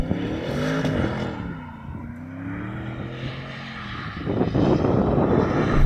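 An Audi RS6 engine revving during a donut, with a loud droning roar whose pitch sweeps up and down, and tyres sliding and scrubbing as the sound swells toward the end, with no talk.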